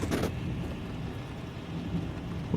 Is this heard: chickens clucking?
no